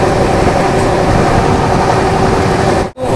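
Inside a train riding through rocky Rajasthan country near the Aravalli hills, a loud continuous rumble and rolling roar fills the carriage, cut by a brief dropout near the end.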